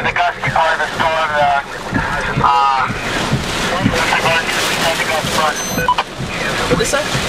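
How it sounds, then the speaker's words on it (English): Gusty storm winds roar during a supercell storm chase near Easton, Pennsylvania, buffeting the microphone in loud, continuous rushes while voices talk briefly underneath. "we're getting into the gusty part of the storm"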